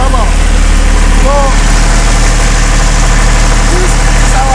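Generator engine running loud and close, a steady low idling drone with a fast regular pulsing rhythm, while someone talks over it.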